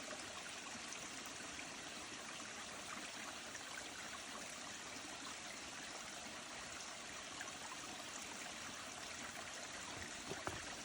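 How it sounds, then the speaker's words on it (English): Steady rushing and trickling of a creek flowing over rocks across a hiking trail on Mt Moosilauke, close by and continuous, with no voices. "Now there's a creek running through the trail."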